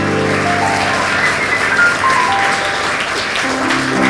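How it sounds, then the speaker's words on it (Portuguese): Church congregation applauding in praise during a Portuguese-language worship service, a steady dense wash of clapping lasting several seconds, mixed with sustained musical tones and faint voices. "aplauda o nome do Senhor, porque Ele merece"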